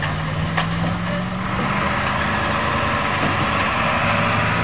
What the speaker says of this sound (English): There goes the dump truck.